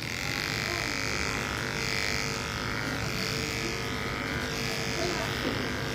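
Electric grooming clipper fitted with a 7FC blade trimming an animal's hair, a steady close buzzing hum running unbroken throughout at even level.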